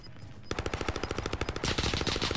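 Automatic gunfire in Call of Duty Warzone, starting with a short pause then a rapid, steady stream of loud, close shots, tightly spaced bursts that hold for about two seconds.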